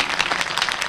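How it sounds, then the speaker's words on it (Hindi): A crowd applauding at a public gathering in Chhattisgarh, a brief burst of dense, steady clapping. "एक बार तालियां उस बात के लिए बजाइए।"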